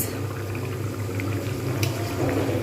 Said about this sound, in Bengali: আর কমিয়ে দুটো মিনিট আমি কিন্তু ফোটাতে থাকবো